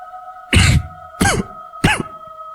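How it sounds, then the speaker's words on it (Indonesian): Three separate dry coughs, evenly spaced, over a steady low electronic hum. "karena suara batuk itu masih saja mengganggu"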